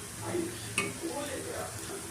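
Ginger-garlic paste, spring onion and green chili fry in hot oil for Manchurian gravy, a soft steady sizzle with a single spatula clink, heard up close.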